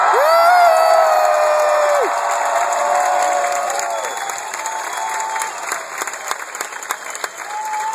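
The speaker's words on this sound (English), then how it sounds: "applause, ladies and gentlemen" A concert audience claps and cheers, with whoops and shouts rising over sustained stage tones and feedback, loud at first then thinning into scattered claps and calls.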